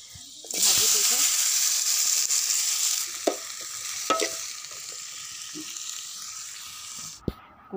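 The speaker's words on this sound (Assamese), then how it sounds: "এইফালে কোমোৰা ভাজিবলৈ লৈছোঁ" Pumpkin sizzles loudly in hot oil seasoned with panch phoron, with a steady frying hiss broken by a few distinct scrapes and knocks of a spatula stirring in the pan.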